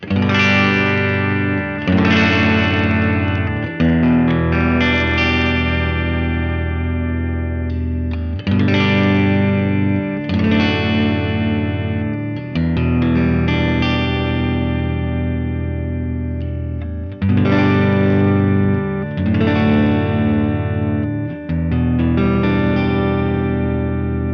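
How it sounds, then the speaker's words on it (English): Open cowboy chords strummed on a Baum Vega Verve electric guitar through the bridge pickup with a distorted, chorused effects tone, each chord ringing out in turn over about two dozen seconds, loud and close. "let's hear some open Cowboy chords. Bridge first."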